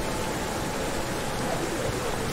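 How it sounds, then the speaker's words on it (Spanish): Waterfall or drizzle in Ori and the Blind Forest: a dense, even hiss of falling water, steady and fairly loud throughout with no variation. "Es como una lloviznada, ¿no? La que está cayendo aquí. O más como una cascada,"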